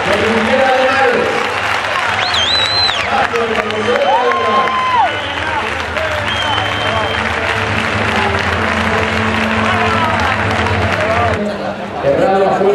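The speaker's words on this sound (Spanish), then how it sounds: "Fuerte el aplauso de unidad que se oiga para César García Navarro" Dense, loud applause from a crowd at a recortes contest in Brihuega, 2008, continuing for most of the stretch. Crowd noise and voices mix in, with a few thin whistle-like tones over the top, before it fades near the end.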